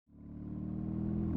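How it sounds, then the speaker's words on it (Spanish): A BMW R18 1800cc boxer twin motorcycle engine fires up abruptly and settles into a deep, loud, lumpy idle that grows slightly louder, close by with no talking. "Empezamos la prueba de la R18 arrancando este bicilíndrico con sistema Boxer"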